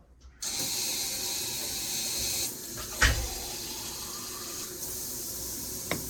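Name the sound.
water filling a cup for a color reveal toy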